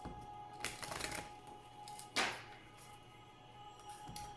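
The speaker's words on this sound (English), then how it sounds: "while I shuffle the cards" Oracle cards being shuffled by hand make soft, papery riffling bursts: a longer flurry, then a single sharp riffle and a faint final one, nearby and quiet with no talking.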